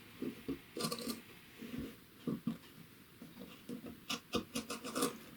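Scissors trimming the seam allowance on layered muslin and contrast fabric, soft, close snipping and rustling in quick irregular bursts, faint overall.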